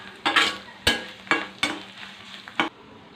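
Turmeric stirred into hot tempering oil in a pan, giving a steady frying sizzle broken by five or six sharp scraping strokes of a spoon against the metal, close and fairly loud, with no talking.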